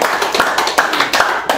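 Audience members at a Saturday guest lecture clap together in a brisk, fairly even rhythm, the sharp hand claps close and distinct with no talking over them.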